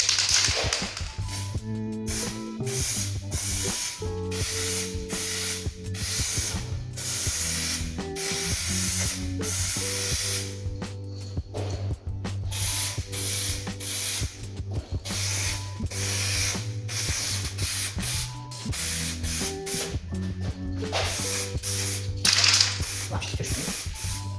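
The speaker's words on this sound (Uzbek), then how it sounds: "o'zimizning masofadan ozgina bir qarish sm masofadan asta-asta sepamiz." Aerosol tint sprayed onto the rear lights of a VAZ 2106 Zhiguli, steady hissing bursts repeated in a fast rhythm with rattling mechanical clicks, close and continuous.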